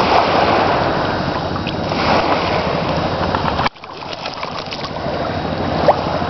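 A pet turtle walks through water in a tub or tank, making a steady wash of sloshing and splashing up close. It cuts off abruptly partway, then quieter water movement follows.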